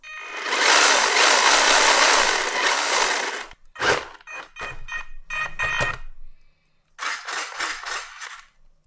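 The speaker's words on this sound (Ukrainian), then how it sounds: "І якщо нажати різко на газ," A radio-controlled BMW drift car's electric motor screams loudly under sharp throttle for several seconds, then gives a string of short, abrupt revving bursts separated by brief pauses, close to the microphone and without talk.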